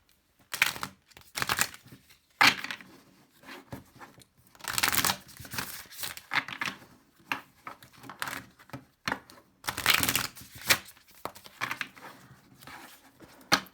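Oracle cards shuffled by hand in repeated bursts of papery riffling and slapping, close and fairly quiet, with brief pauses between shuffles and no talk.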